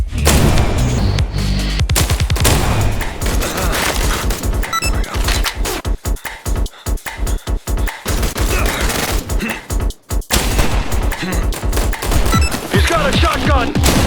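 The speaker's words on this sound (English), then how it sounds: "He's got a shotgun!" Shotgun blasts in the action video game I Am Your Beast, loud booming shots mixed with crashes and heavy impacts in a chaotic firefight, brief gaps between bursts, with a voice shouting over the gunfire.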